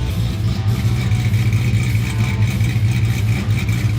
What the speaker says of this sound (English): When we first fired this engine up, this thing sounded real healthy.